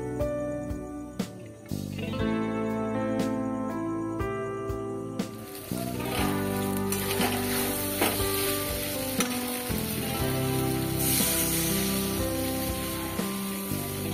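Fried potatoes going into sizzling spice masala for a boal fish curry, with a continuous loud frying hiss and scraping stirs throughout, and tonal background music running underneath.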